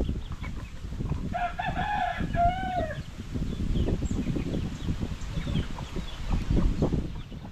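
A chicken gives a short run of loud, close crowing calls near the start, then background noise and rustling continue with no further clear calls.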